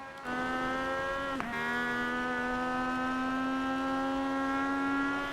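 Legends race car with a modified engine on a track, its engine holding a steady, loud tonal drone with a brief dip in pitch as it shifts, then sustaining at a high, even note.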